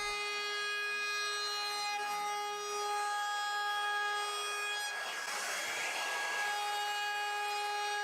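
A router with a round-over bit shapes the front edges of a wooden plaque, giving a steady high-pitched motor whine with a rougher cutting rasp swelling in the middle, continuous and close.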